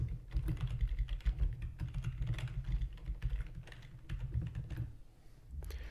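Keys on a computer keyboard are typed in a quick, uneven run of soft clicks and taps, fairly faint and close, with no talking.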